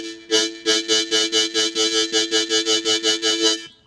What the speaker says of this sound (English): first thing you do in this chord progression is you're going to draw 4 times on holes 1 and 2